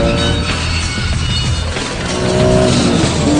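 A Porsche 911 pulls away from a rolling race start, its engine a loud, sustained, rising roar with a harsh broadband rush, close and dominating throughout with no voices.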